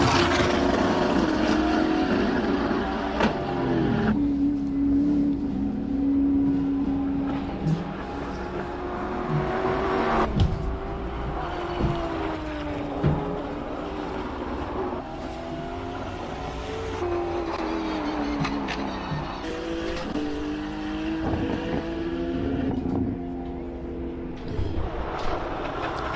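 Powerful race cars climbing the hill at the Simola Hillclimb, King of the Hill, engines roaring continuously and loudly, with revs rising and falling through gear changes as they power up the course.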